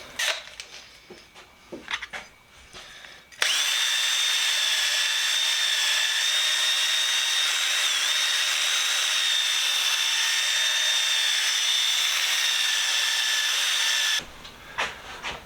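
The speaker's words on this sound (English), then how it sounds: "I'm going to get a wire brush on my drill and clean the inside of that" A power drill fitted with a wire brush scrubs the inside of a small metal fuel can, a loud steady whir with a scraping edge that runs for about ten seconds, with clatter and handling noises before and after.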